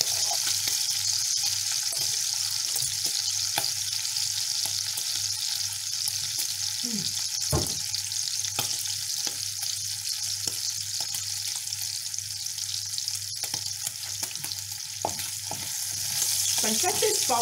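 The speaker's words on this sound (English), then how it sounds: "Pancetta is popping, so it's very almost ready." Pancetta frying in a pan for a quick pasta, a steady close sizzle with scattered sharp pops and crackles throughout, with no voices.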